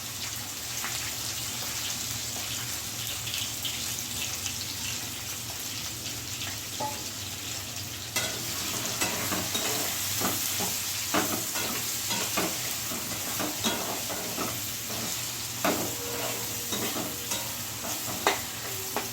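Finely chopped small onions hit hot oil in a pan and sizzle steadily. Scraping stirs and clinks stand out near the close, and a low hum runs underneath.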